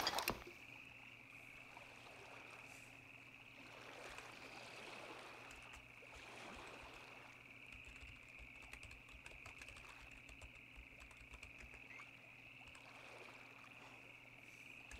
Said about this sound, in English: I hear frogs and water.